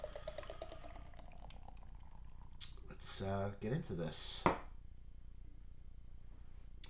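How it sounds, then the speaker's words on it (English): Smuttynose Pumpkin Ale, a fall seasonal beer, glugs and fizzes into a glass in a brief pour lasting about two seconds, just after someone speaks briefly. "There's the pour."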